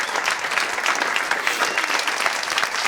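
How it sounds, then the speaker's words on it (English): A comedy club audience applauds a comedian with steady, dense clapping that holds loud and even throughout. "Give it up for my friend and yours, Mr. Tom Segura, everybody. Let him hear it"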